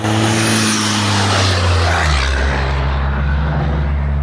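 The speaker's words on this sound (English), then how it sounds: "Let's wait till that car goes by." A car drives by outside, a loud low rumble that swells and then settles into a steady droning hum as it passes, heard alone without speech.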